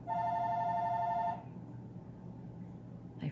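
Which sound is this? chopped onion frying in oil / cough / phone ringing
phone ringing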